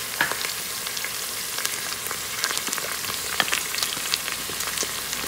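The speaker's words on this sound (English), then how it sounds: "fry these for another 2 minutes" Mixed vegetables such as beans, carrots, peas and potato, with mint and coriander leaves, fry for pulao in an Instant Pot, giving a steady close sizzle with scattered crackles and pops and no voices.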